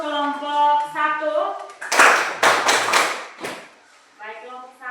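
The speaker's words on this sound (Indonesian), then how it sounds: "tepuk tangan dulu untuk kelompok 1" A classroom group of students claps for a student group in a short, loud burst of hand claps, framed by spoken voices before and after.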